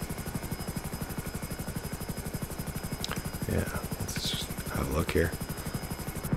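An FH1 Hunter Killer attack helicopter flying in a video game, its rotor thumping in a steady, rapid rhythm throughout while someone talks over it.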